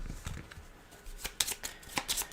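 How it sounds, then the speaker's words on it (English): Cards for the Aeon's End board game being shuffled, a series of quick riffling bursts and soft flaps at close range, with no talk. "Then we are going to shuffle the cards."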